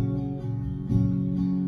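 Guitar strummed across the strings, full chords with a couple of strum attacks letting sustained tones ring out, close and steady.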